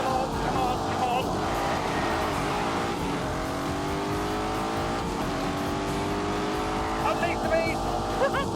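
A Porsche 911 Carrera's engine in a racing video game holds a sustained, loud rising drone through gear changes, with brief tire squeals near the end and talk over it.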